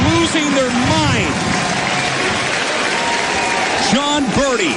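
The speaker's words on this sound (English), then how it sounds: "This crowd is losing their mind." A baseball crowd cheers wildly in the bottom of the ninth inning of a Tri-City at Vancouver game, a loud, sustained roar with applause, while an announcer talks over it.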